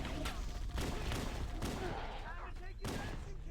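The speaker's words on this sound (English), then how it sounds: "Just hit the sniper shots." Sniper rifle shots in Halo: Combat Evolved on Legendary difficulty ring out as several sharp, loud cracks spaced apart, mixed with other game battle noise and a voice talking over the action.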